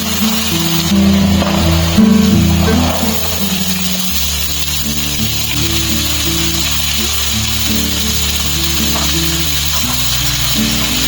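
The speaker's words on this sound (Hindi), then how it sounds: "तो चलिए जी फटाफट से एक सिंपल जैसा तड़का लगाते हैं।" Steady loud sizzling and crackling from spices tempering in hot oil in an iron wok, continuous throughout with a low hum underneath, close up and without any voices.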